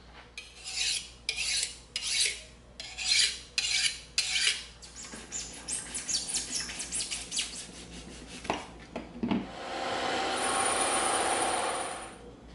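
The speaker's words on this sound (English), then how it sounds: "We're gonna sharpen our box cutter and we're gonna cut right through here" Box cutter blade sharpened with rhythmic rasping strokes, followed by the blade slicing through EVA foam with a steady scraping tear, close and moderately loud with no talking.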